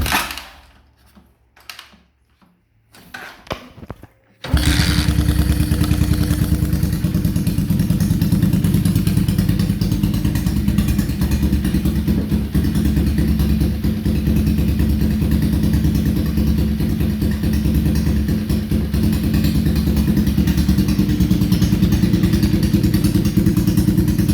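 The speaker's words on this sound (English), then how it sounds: "So I'll start it up for you and see if I can get it to go first kick." After a few scuffs and thuds of kicking, a Cleveland Cyclewerks Heist motorcycle fires up and settles into a loud, close, steady idle that runs on without a break.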